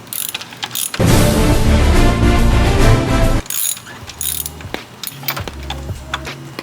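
A ratchet wrench works a spark plug loose on a Dodge engine, giving a loud, steady, close grinding clatter for about two and a half seconds, followed by softer scattered clicks and mechanical knocks.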